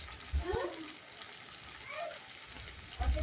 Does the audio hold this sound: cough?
no